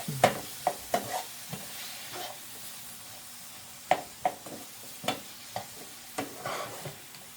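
Lamb chops with dried parsley being stirred in a pan: a series of sharp spoon-against-pan scrapes and clinks in irregular bursts over a faint, steady low sizzle, close and fairly quiet, no talking.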